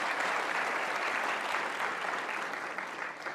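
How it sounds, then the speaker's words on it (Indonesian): Studio audience on an Indonesian evening talk show applauding a mime performer, a dense steady wash of clapping that holds loud and even for a few seconds before easing slightly. "Sekali lagi kasih tepuk tangan dong untuk Mas Wanggi"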